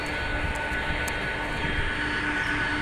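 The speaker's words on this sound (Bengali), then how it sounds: "তারপরে ওই যে আরেকটা বিমান আসতেছে" Airplane approaching at Dhaka airport: a steady, broad engine roar holds at constant loudness throughout, with a few faint clicks and no talking.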